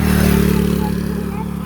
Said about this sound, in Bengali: মোটর সাইকেল আসছে